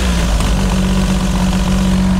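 An FC car's engine runs steadily at idle, a loud, close, continuous low rumble with a slightly uneven pulse and no voices over it.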